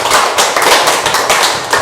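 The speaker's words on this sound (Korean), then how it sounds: "또 박수 한번 5번 크게 쳐볼까요?" A group of people in a basement exercise class clap their hands loudly in unison, about five strong, evenly spaced claps in quick succession.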